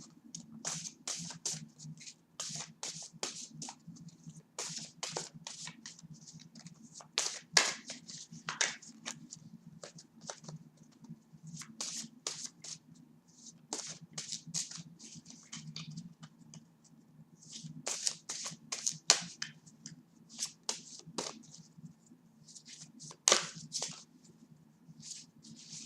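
Tarot cards being shuffled by hand, close and quiet: irregular flicking riffles and soft slaps in uneven bursts over a low steady hum, for nearly half a minute.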